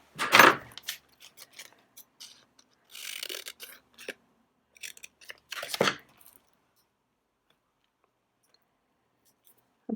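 Scissors cutting out a small paper label for a bullet journal, a crisp snip followed by a series of short, close crunchy cuts and pauses, then a faint final click.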